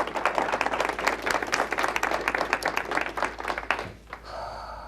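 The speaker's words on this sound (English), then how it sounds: "Let's give her a round of applause." An audience claps for an elementary school teacher at a town hall event, a lively burst of many hands clapping close by that tapers off after about four seconds into quieter room sound.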